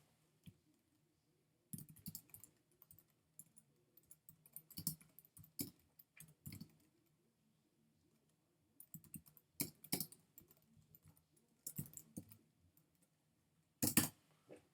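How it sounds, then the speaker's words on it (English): Someone types on a computer keyboard in quiet, irregular bursts of rapid keystrokes separated by short pauses, with no talking. "I'm usually better at typing than this."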